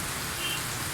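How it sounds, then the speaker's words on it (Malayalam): Heavy rain pours down in a dense, steady hiss with no breaks, close by and loud throughout the brief moment. "നല്ലൊരു മഴയാണ് പെയ്തത്."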